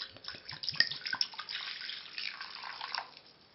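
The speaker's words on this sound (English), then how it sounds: "Then I'm adding 1 cup of rice vinegar." Rice vinegar, a cup of it, pours into a bowl for seasoning sushi rice, a soft, steady liquid trickle with a few small splashy drips, close and fairly quiet, with no talking.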